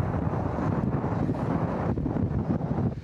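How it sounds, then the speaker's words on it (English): Strong wind blows across a coastal country park near a Roman fort, a loud, continuous roar buffeting the microphone with no break and no voices. "The wind is blowing hard, I hope you can hear me."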